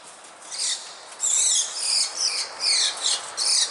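Birds squeak and chirp outside at night in a cemetery, shrill and high-pitched, in short repeated bursts of fairly close, scratchy calls.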